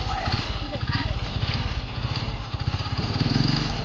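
A motorcycle engine runs at a wedding gathering, a steady, close, low, pulsing chug that continues throughout while voices murmur in the background.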